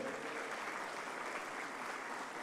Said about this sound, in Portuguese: Meu amigo Marcos Sintra merece uma salva de palmas